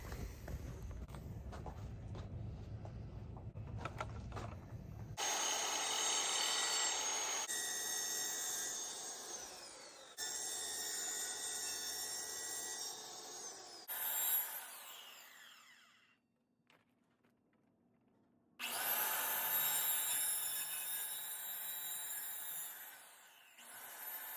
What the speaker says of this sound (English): So I'm gonna switch to the circle saw.